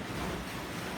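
Ocean surf rushing and crashing on a Philippine shore, a steady close roar of water with wind buffeting the microphone.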